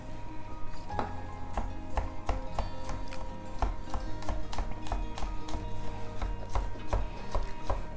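Knife julienne-cutting vegetables on a board into thin strips, heard as a steady run of crisp chopping taps, close and clear, with no talking.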